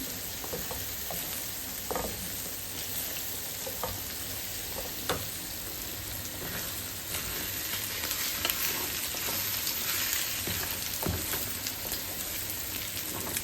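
Dried fish (shutki) bhuna with potatoes, beans, onion and dried chillies fries in a pan, giving a steady loud sizzle broken by scraping stirs.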